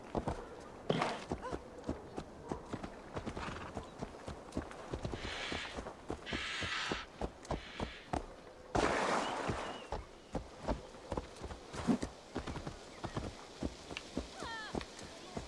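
Rhythmic clip-clop of horse hooves walking steadily in the game Assassin's Creed Valhalla, close and fairly loud, with a voice talking over it and a few louder bursts.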